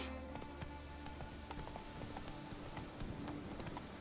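Hoofbeats of a horse galloping in The Witcher 3 video game, a rapid, even clip-clop rhythm over a steady ambient game background, fairly close and continuous.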